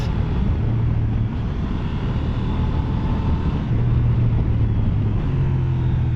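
A Honda XL750 Transalp twin-cylinder motorcycle downshifts in sport mode on a test ride, its engine a steady loud rumble under heavy wind roar with brief tonal shifts as revs change.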